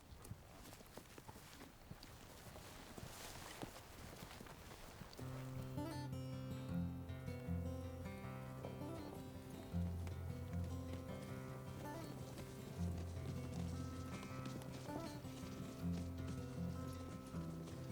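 Steady hoofbeats clip-clop at a walking pace under music, following a quieter, rustling stretch at the start.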